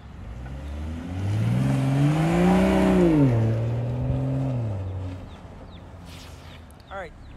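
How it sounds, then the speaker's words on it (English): A BMW all-wheel drive car accelerates forward with traction control on, its engine note climbing steadily and swelling louder as it pulls away, then fading, with a brief bird-like chirp afterward. "demonstrate accelerating forward with traction control on"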